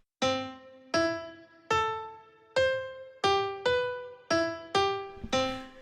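Single piano notes played one at a time in a melody that leaps between distant pitches, eight clear struck notes at an even, unhurried pace, each ringing and decaying before the next, close and alone.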